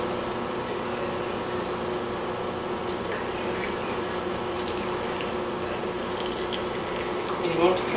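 Hot vinegar poured through a funnel into a bottle of peppers makes a steady, continuous liquid rush and trickle, heard close up for several seconds, with a faint gurgle near the end.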